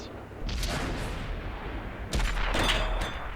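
An M46 Patton tank cannon in a video game fires two heavy booming shots a couple of seconds apart, each with a sudden blast and a long rumbling tail, loud and close.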